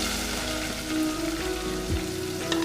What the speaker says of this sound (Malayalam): സവാള ഇട്ട് കൊടുക്കാൻ പോവുക.